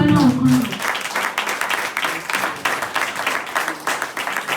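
A church congregation breaks into continuous applause in a reverberant room, a fairly loud wash of many hands clapping at once, overlapping a voice at the very start.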